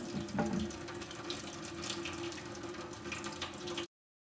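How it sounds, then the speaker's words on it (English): Hot water runs steadily from a kitchen tap for hand washing, a continuous close splashing stream that stops abruptly at the end. "So, get some hot water going."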